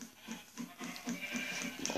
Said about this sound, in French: Oh, 3 petits moutons.